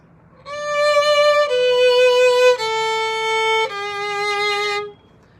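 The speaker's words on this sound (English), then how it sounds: "Then the bottom notes at 39 sounds like this" A lone violin plays the lower line of an evening prayer at bar 39, four long bowed notes in a slow, even succession that steps downward, played close and clear before stopping cleanly.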